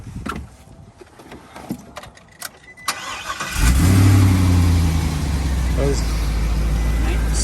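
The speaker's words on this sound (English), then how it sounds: "Let's go ahead and fire it up and show the odometer." A new custom toy hauler truck cranks over after some handling and jangling keys, then its engine catches and settles into a loud, close, steady idle with a slight rev, while someone talks over it.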